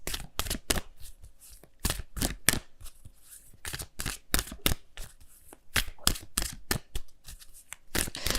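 Angel of Abundance oracle cards being shuffled by hand at a tarot reading table, a long run of crisp, rapid riffling bursts and flicks repeating close to the mic with no talking.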